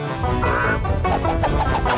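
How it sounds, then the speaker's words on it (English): Cartoon chickens cluck and squawk in a busy, loud burst of repeated calls over a full, dense background, with no speech. "Chicken on the loose!"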